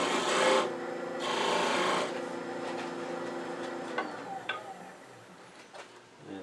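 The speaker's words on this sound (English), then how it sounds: "I'm just going to make a little V-cut where it's going to go." A small V-notch is cut into a wooden burl ornament with short, rasping strokes. A few firm scrapes are followed by lighter, ticking scratches, close by and alone.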